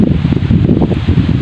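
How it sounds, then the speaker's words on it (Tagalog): Strong wind buffets the microphone during an outdoor fishing outing, producing a loud, continuous low rumble with uneven gusty surges and no voices. "Pasensya na kayo, sobrang lakas ng hangin"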